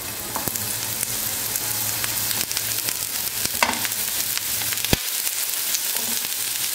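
Eggplant slices fry in a little oil in a pan, giving a constant close sizzle with occasional pops and clicks from the pan throughout.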